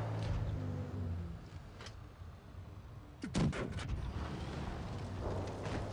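A few tank cannon shots with a sharp crack and booming tail sound in a World of Tanks Blitz battle at moderate loudness, over a steady engine and ambient rumble.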